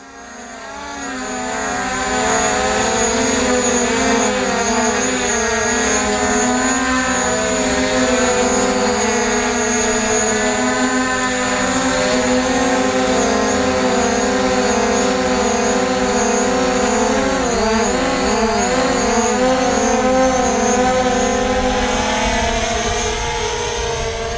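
DJI Mavic Pro quadcopter carrying a Garmin Virb 360 camera on top, its propellers a steady, loud buzzing whine that rises in after a moment and holds, with pitch wavering up and down as the drone moves.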